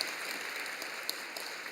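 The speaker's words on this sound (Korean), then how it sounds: "큰 박수로 축하해 주시기 바랍니다." Congregation applause in a church during an evening worship service award presentation, a faint, distant, even wash of clapping with a couple of slightly louder claps.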